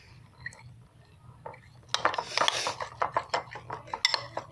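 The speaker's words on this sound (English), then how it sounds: "Marquitos is stirring right now." Slime is stirred in a bowl with a utensil, a quiet stretch followed by a run of rapid clinking, scraping strokes, with faint voices in the background.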